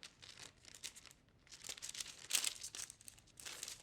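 A strip of duct tape being folded in half gives a faint, close crinkling and soft crackle that comes in small bursts and builds briefly toward the middle before easing off.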